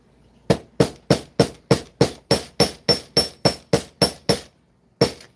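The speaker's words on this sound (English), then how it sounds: "I don't want to be hammering so hard that it makes the wire like bite through itself." A household hammer strikes wire laid on a cast iron skillet: about thirteen sharp, ringing metallic blows in a fast, even rhythm, then a brief pause and one final strike, close and loud.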